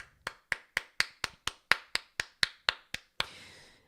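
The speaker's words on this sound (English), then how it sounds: "Round of applause for Adam Rogers, man." Sharp, evenly spaced claps, about a dozen in steady rhythm, close and fairly crisp, ending in a longer smeared burst; a single person clapping rather than a crowd, with no talking.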